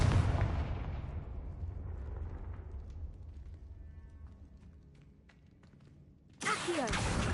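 A Confringo fire spell bursts in Hogwarts Legacy, a loud blast with a booming tail that fades over several seconds, followed by a sudden renewed surge of noise near the end.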